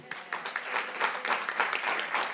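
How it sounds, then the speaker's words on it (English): Audience clapping at a school board meeting, a moderate burst of steady applause in a room, no voices over it. "While we're applauding"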